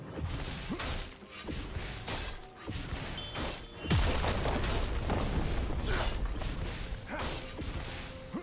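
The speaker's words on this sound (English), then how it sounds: "Red team's turret has been destroyed." League of Legends turret destruction during a Talon versus Fizz mid-lane match: repeated crashing impacts, whooshes and shattering hits spread over several seconds, busy and loud game effects, with an announcer voice in places.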